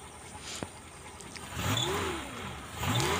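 A Suzuki Espass 1.6 car engine runs close by at a quiet idle, with a couple of short revs swelling and falling and a light knock early on.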